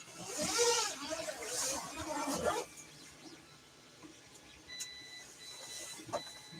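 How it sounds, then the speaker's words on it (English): A 3D printer struggling and printing poor, messy output gives off faint whirring motor tones and small mechanical whines, first under a person talking and then on its own. "that printer back there is in dire need of assistance. It is printing all sorts of rubbish."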